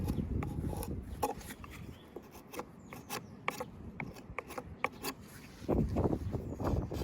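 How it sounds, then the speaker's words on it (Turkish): Steady rasping and rubbing on a chainsaw-cut walnut tree surface being smoothed for grafting, a scraping stroke repeated in an uneven rhythm, fairly quiet and close with no talking. "Motorlu testereyle kestiğimiz yüzeyi bu şekilde perdahlıyoruz."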